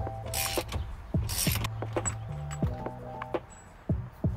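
A large hand ratchet clicks and creaks as it works a nut loose on a 2013–2016 Dodge Dart during a windshield wiper switch replacement, with several short bursts of close mechanical ratcheting.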